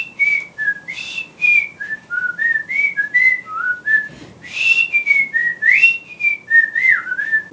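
A person whistles a lilting, wandering tune alone, with short rising and falling phrases separated by brief breaths.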